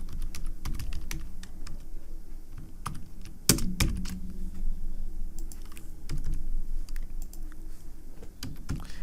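HTML code being typed on a computer keyboard: a steady stream of close, crisp key clicks with irregular rhythm and a few louder presses, heard alone without talk.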